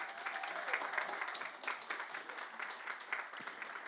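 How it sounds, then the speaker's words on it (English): An audience at a regional barista championship heat in Cardiff claps softly and at a distance, a light, scattered round of applause at modest volume. "Give him another big round of applause."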